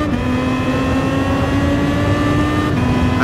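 A race car engine in Gran Turismo Sport, driven in a PS4 online race room, holds a steady, loud, high-revving drone with a whining tone throughout, with no talk.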